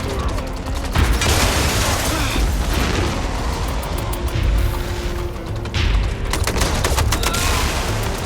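Video game gunfire rattles through a dense, loud battle in MindsEye, with continuous shots, booms and combat noise sustained throughout.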